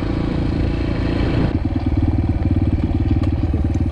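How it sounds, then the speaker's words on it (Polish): Yamaha TTR125 motorcycle engine running steadily up close, loud and throbbing, with a light ticking valve clatter from loose valve clearances threaded through the idle. "Są luzy zaworowe, więc zawsze będzie je tam lekko słychać."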